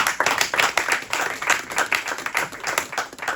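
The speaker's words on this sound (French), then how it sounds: "Let's clap for the Lord." A church congregation claps for the Lord during a sermon, dense rhythmic clapping from many people that fills the room, loud and sustained with a slightly pulsing beat.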